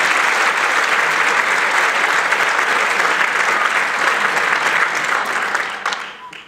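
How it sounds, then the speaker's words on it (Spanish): An audience gives loud, continuous applause for the rondalla Canet choir at a jota album presentation, the dense clapping holding steady before thinning out at the end. "Un fuerte aplauso para ellos."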